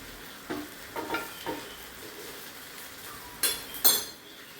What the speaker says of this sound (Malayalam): ഇനി ഇതിൽ കടുക് അടിച്ച് ചട്നി വെക്കാം.